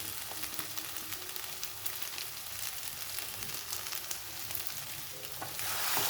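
Potato curry for dosa, with sambar masala added, sizzles steadily in a pan as a spoon scrapes and stirs through it at irregular intervals, the hiss swelling louder toward the end.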